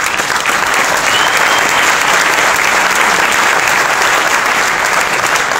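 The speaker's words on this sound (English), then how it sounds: "please keep your applause going for Caitlin Winter on the euphonium." Sustained, loud audience applause fills a jazz band concert hall, dense and steady clapping from a large crowd with no break.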